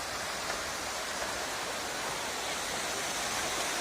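A waterfall at Curug Lui Pangaduan in Sentul City, Bogor, roars as a steady, dense broadband rush of falling water, constant and unbroken with no voices.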